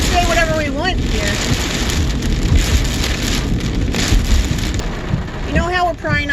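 Heavy rain drumming on a car with windshield wipers sweeping, heard from inside the cabin as a loud, constant wash with rhythmic wiper squeaks near the start and end.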